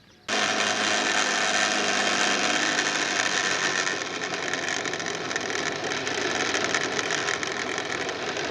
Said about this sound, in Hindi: जूसर में 2-3 अंडे डालकर इसे ग्राइंड कर लेंगे।